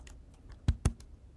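A Mac computer keyboard gets two quick, close key presses in a quiet room, sharp clicks a fraction of a second apart with faint keyboard noise around them.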